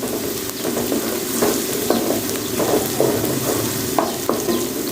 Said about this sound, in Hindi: तो थोड़ा सा इसको फ्राई कर लेते हैं ताकि अदरक लहसुन में जो कच्चापन है वो ख़त्म हो जाए